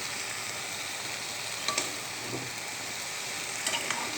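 Data saag (amaranth stem greens) frying in a pan, with a steady low sizzle and a few soft stirring scrapes, alone without talk.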